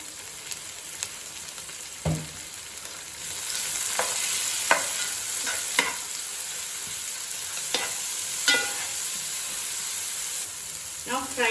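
Capsicum and chopped carrots for egg fried rice fry in a pan with a continuous sizzle that steps up in loudness partway through. Sharp clanks of a spatula against the pan come in irregular bursts.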